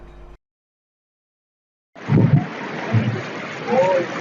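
A flooded river rushes over a causeway after heavy rain, heard as a loud, broad roar of splashing water that starts abruptly after a short silence, with a voice talking over it.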